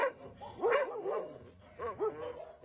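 A rescued former stray dog from Peshawar, kept at an animal shelter in Charsadda, barks and yips in short bursts close by, with whimpering tones between the barks.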